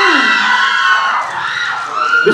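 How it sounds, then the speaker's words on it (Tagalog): A talk-show studio audience cheers and shouts in a bright, loud wave of high voices that dips briefly, then swells again. "May palakpak."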